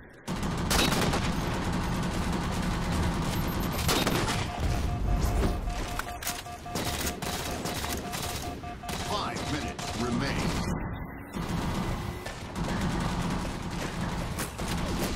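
Rapid bursts of gunfire and explosive crashes from a 5v5 capture-the-flag match on the Ragnarok map in Halo 4, loud and nearly continuous throughout, with a steady high beeping tone partway through and voices in the background.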